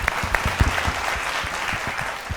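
Audience applause for a versatile singer named Govindaraju on a Kannada television singing reality show, with steady clapping from a crowd and a few sharper individual claps standing out above the wash.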